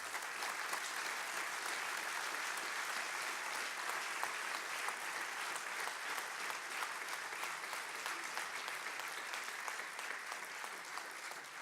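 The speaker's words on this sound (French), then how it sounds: "vous avez raison d'avoir été applaudi" Sustained audience applause fills a plenary session hall after a tribute to an elderly law professor, steady and dense clapping from a large crowd throughout, with no talk over it.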